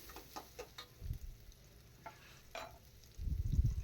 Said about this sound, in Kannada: ಎಣ್ಣೆಯಲ್ಲಿ ಇರೋ ಈರುಳ್ಳಿನ ಒಂದು ಸ್ವಲ್ಪ ಕೆಂಪಗಾಗೋ ಹಾಗೆ